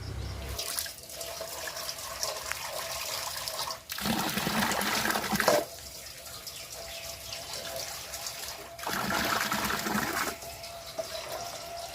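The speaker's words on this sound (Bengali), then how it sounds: "মাংসটা খুব সুন্দর করে ধুয়ে নিছি" Chicken meat washed under running water, with three separate bursts of splashing, pouring flow and dripping in between, close and fairly loud, with no talk.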